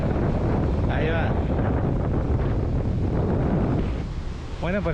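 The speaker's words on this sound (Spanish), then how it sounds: "así está el mar en Tulum" Sea surf rolling onto the beach at Tulum, Mexico, a steady loud wash of breaking waves mixed with heavy wind buffeting the microphone, continuous throughout, with faint distant voices in the background.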